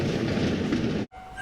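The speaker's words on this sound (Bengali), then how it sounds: "ট্রেনটাও সে কখন থেকে চলছে" A train runs on through pitch-dark night, its steady, loud rumble and rattle filling the air without pause before cutting out abruptly near the end.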